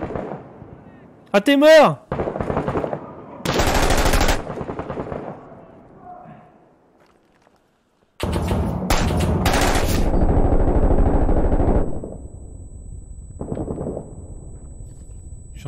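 Gunfire and explosive bursts in the tactical shooter Six Days in Fallujah come in loud, ragged volleys with a quiet gap between them, while a player speaks excitedly over the fighting.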